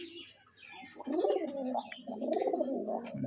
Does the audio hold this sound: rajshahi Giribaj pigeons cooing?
yes